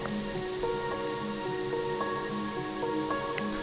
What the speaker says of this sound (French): Du coup là il pleut